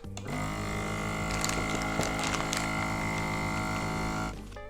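A vacuum sealer works on a bag of seasoned beef, giving a steady mechanical hum with a motor drone and faint rattles, starting abruptly and cutting off near the end.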